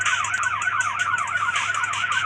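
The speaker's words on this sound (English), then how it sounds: "Oh my God, the police cars are coming." Wailing police sirens in the video game Dude Theft Wars, a steady rising-and-falling electronic warble repeating quickly and loudly throughout, with no talking over it.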